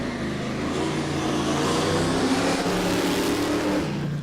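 A Mitsubishi Evo race car engine holds a loud, steady rev at an autosprint event, with dense mid-range roar throughout and no voices.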